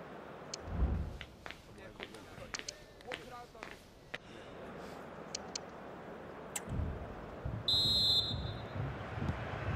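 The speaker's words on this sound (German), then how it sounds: "Und damit pfeift er die zweiten 45 Minuten an." A referee's whistle in EA Sports FC 24 starts the second half with one sharp, steady blast near the end, over stadium crowd murmur and scattered thuds.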